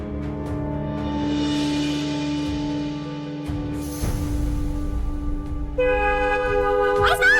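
A sustained car horn blares over street noise, with a second, higher horn blast sounding near the end.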